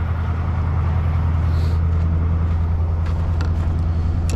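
A Caterpillar 3208 diesel engine in a truck keeps running after the key is turned off, a loud, close, steady low rumble continuing unbroken with no talking.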